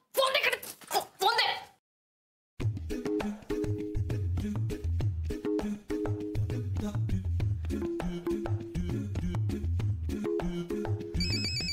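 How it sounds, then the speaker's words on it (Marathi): A mobile phone ringtone plays in a Marathi TV serial scene, a looping melodic electronic tune running steadily for several seconds after a brief burst of talk and a short pause. "phone, मैत्रीचा phone"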